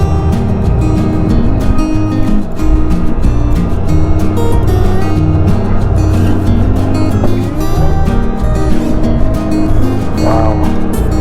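A Honda Gold Wing touring motorcycle engine brakes down a steep hill in first gear, a steady droning engine note with wind rush running loud and continuous throughout.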